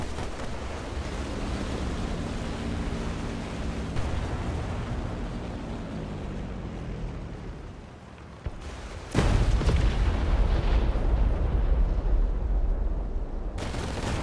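An artillery strike in War Thunder tank combat: a low, continuous rumble of battle gives way to a sudden loud blast, then a heavy sustained roar.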